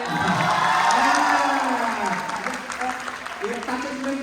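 Applause and cheering from a crowd, loudest at the start and thinning out, with voices shouting and talking over the clapping.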